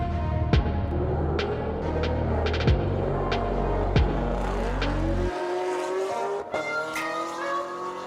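Fast cars drag racing at a Tucson street show, engines roaring and rising sharply through gear shifts with whining, climbing tones, loud and close, then the roar cuts off abruptly and a lighter engine note carries on.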